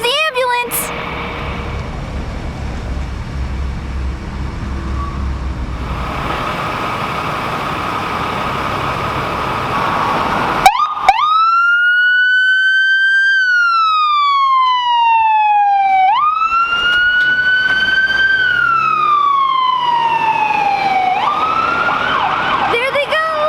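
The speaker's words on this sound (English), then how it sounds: "Here comes the ambulance." An ambulance's wailing siren sweeps up and down in long glides, loud and close, after a stretch of idling engine noise and voices.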